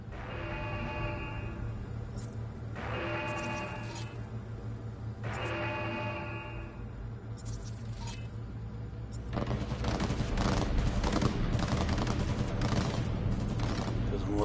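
Video game gunfire erupts in a street bust scene, with dense rapid shots layered over a low rumbling engine drone and a few sustained tones earlier, growing loud and continuous toward the end.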